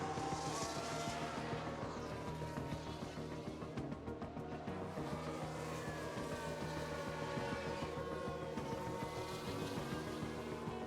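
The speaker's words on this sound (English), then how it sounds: "They've locked up." Race cars in F1 Manager 2022 whine past while one car locks up its tires, a steady engine drone layered with brief tire noise, moderately loud, with no talking.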